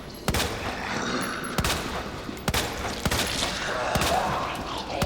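Rapid gunfire from the Resident Evil 2 Remake video game, several sharp shots spaced through a busy background of game combat noise, loud and close.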